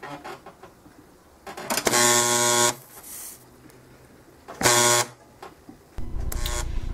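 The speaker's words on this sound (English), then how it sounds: "A few extra welds are done to be sure that the pit is welded." A bronze pit welder fills a small pit in metal with a pellet, giving loud electric buzzing bursts with a harsh tonal hum, each lasting under a second, separated by quiet pauses.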